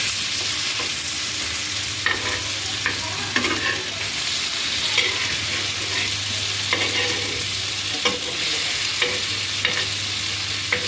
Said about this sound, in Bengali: এই তো হয়ে গেছে মাছ ভাজা।